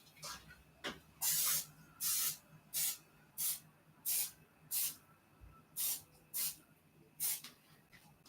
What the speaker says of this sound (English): So I'm gonna spray my muffin pan.